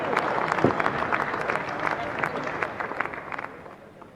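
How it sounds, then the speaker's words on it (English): An audience at the opening ceremony of the 1st Pythian Games Festival 2023 breaks into steady applause, many hands clapping together at moderate volume, with some voices mixed in, slowly fading toward the end. "Can we have a round of applause for them?"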